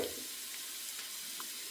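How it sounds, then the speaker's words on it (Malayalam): Chopped onion, green chilli, garlic and ginger frying in hot oil, a steady hiss and crackle of sizzling close to the pan, with a faint clink at the end and no talking. "ഇനി നമുക്കിതിലേക്ക് കട്ട് ചെയ്ത് വെച്ചേക്കുന്ന ഉള്ളിയും പച്ചമുളകും വെളുത്തുള്ളി ഇഞ്ചിയും എല്ലാം ഇട്ട് കൊടുക്കാം."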